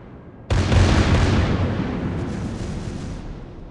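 A loud naval battle explosion in a warship game featuring the Japanese cruiser Maya, a sudden heavy boom that bursts in and then rumbles and decays slowly.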